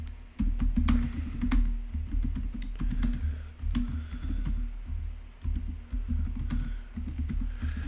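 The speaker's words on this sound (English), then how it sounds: "I'm typing because you're talking." Someone types steadily on a computer keyboard in quick, irregular bursts of close key clicks, with no talking.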